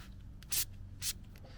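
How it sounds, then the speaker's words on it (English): Two quick, soft hissing bursts of fine Lanoguard spray from a nozzle onto weeds, brief and close, against a quiet background. "So you've got a nice fine spray."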